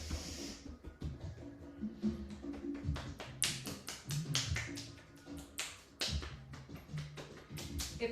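Hands pat and tap against the body in a quick, uneven flurry of soft slaps during a kundalini meditation flow, close and continuous with brief pauses, no voice over it.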